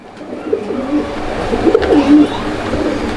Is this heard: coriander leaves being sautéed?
no